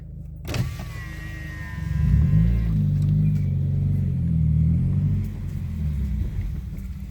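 A Subaru WRX engine idles with a steady low rumble whose tone sags as the revs drop unusually low, then holds near-constant, heard close with no talking.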